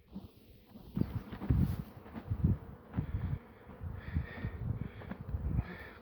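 Honey bees buzzing around a crowded beehive in Ardahan, a steady close drone broken by irregular low bumps and handling knocks, with no talk.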